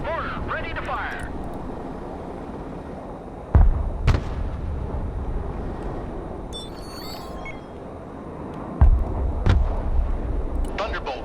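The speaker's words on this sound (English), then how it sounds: "Mortar, ready to fire." Heavy mortar artillery fire in the Broken Arrow video game comes as two loud booming impacts several seconds apart, over a constant rumbling battlefield background.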